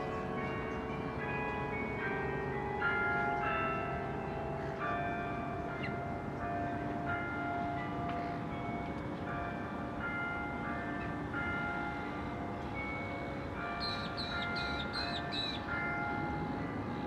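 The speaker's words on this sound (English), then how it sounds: "3 o'clock chimes." A clock named Krystal chimes the hour for three o'clock on a sunny afternoon while fishing, its bell-like tones ringing steadily and clearly over constant low outdoor background noise.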